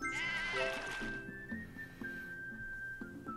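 Cartoonish sheep bleats from the puzzle video game Divide by Sheep, a wavering bleat near the start over a thin whistling tone and soft game music, fairly quiet.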